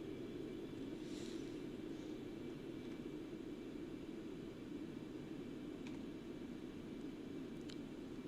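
Concorde engines roar in a steady, faint, broadband drone in the X-Plane 11 flight simulator during a Heathrow to JFK flight, with no talk over it.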